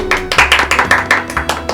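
Applause after a card magic trick: a short burst of quick, close, loud hand claps in an uneven rhythm, with no talking.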